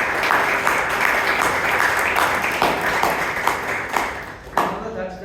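Audience applause at a Bangalore Toastmasters club meeting, a dense, sustained round of many hands clapping close by, with louder individual claps poking through before it thins out at the end.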